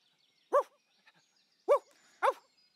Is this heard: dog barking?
yes